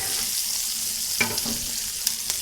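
Steak sizzling in a pan heaped with butter and garlic, a steady close frying hiss with a few brief pops and stirring clicks, no talk over it.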